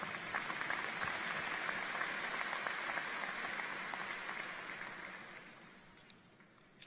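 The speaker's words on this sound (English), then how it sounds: "round of applause" Crowd applausing at a large university graduation ceremony, a dense wash of clapping that holds steady and then gradually fades away toward the end.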